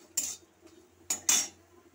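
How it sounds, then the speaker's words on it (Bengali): Garlic, onion and spices stirred in a dry pan, the spatula scraping and clinking against the metal in three short, sharp strokes over a quiet background. "শুকনো কড়ার মধ্যে আমি এগুলো নেড়ে নিচ্ছি, ভাজা ভাজা করে নিতে হবে।"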